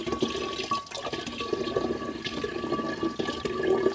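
Water poured while making water kefir, a steady gushing stream splashing into a container, close and continuous with slight surges.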